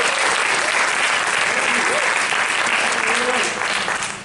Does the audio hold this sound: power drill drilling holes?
no